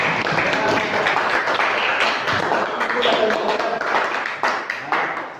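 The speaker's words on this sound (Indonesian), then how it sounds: "Tepuk tangan buat Galih" Classroom applause for a student named Galih during a guidance lesson, a dense patter of clapping hands that fills the room steadily for several seconds, with some voices mixed in.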